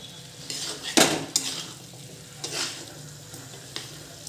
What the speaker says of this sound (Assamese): এতিয়া গোটেই মছলাখিনিৰ লগত ভালদৰে ভাজি ল'ম